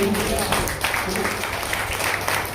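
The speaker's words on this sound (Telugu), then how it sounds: "చప్పట్లు కొట్టండి నమ్మిన వాళ్ళు" A church congregation clapping hands together during a sermon, with a continuous mass of applause mixed with voices, filling the whole stretch at a steady level.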